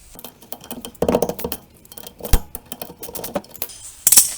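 An adjustable wrench loosens a bolt on the rear wheel bearing of a VW Golf Mk4: close, sharp metallic clicks, knocks and ratcheting scrapes in irregular bursts, with no voices.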